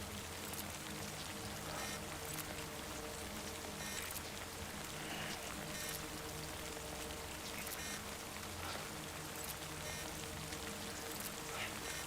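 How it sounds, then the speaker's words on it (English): Steady rainfall pours down throughout the scene in the video game Death Stranding, a constant broadband hiss of drops hitting surfaces with no breaks, moderately loud and heard alone. "maybe, you know, the rain is gonna end and stuff"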